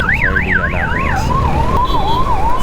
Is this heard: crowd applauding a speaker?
no